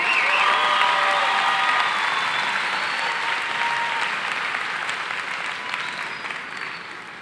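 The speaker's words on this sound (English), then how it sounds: "Can we have a round of applause for our chamber choir" A graduation audience at the Hermiston High School Class of 2019 ceremony applauds the chamber choir: a dense, sustained wash of clapping from a large crowd that tapers off gradually over about seven seconds.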